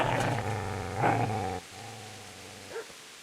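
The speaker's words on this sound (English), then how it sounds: "Get away, you mutt!" A dog growls in the video game Kingdom Come: Deliverance: a low, rumbling sustained growl in two close stretches, loudest around the one-second mark, followed by a short sharp yip near the end.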